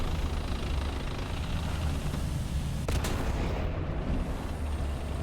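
A Merkava 4M tank cannon fires in War Thunder with a single sharp, loud shot. The blast sits inside a constant, dense rumble of engine and battle noise.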